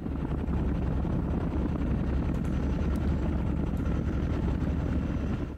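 Military helicopters drone in the Modern Campaigns Danube Front 85 wargame, a loud, continuous rotor and engine rumble that holds steady throughout.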